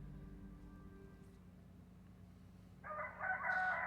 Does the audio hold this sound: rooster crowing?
yes